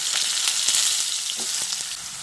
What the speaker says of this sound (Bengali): ওই তেলের মধ্যে আমি একটা মিডিয়াম সাইজের আলুকে এইরকম ডুমো ডুমো করে কেটে দিয়ে দিচ্ছি